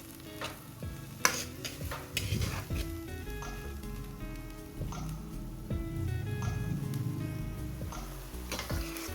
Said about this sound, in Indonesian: Masak terus sehingga sabu dan terongnya matang sempurna